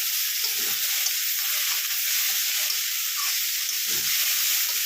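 Potatoes and shrimp frying in a pan, an even, dense sizzle held at steady volume close by, with faint low clinks of stirring beneath.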